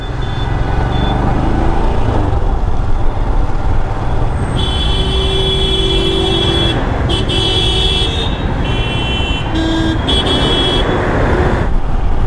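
Dense Delhi road traffic heard from a motorcycle, with a steady loud roar of engines and repeated car horns honking over it, some held long and some short.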